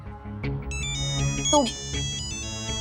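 A phone ringtone plays with bright repeating chime notes for an incoming video call in a home, while people talk over it.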